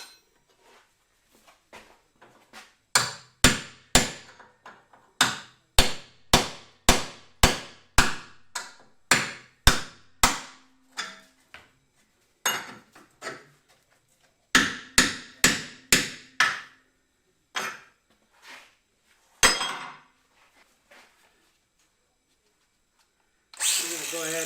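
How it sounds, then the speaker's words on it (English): Heavy hammer blows land in rapid rhythmic bursts, sharp metallic strikes separated by short pauses, close and loud, with occasional faint speech between. "Big hammer time."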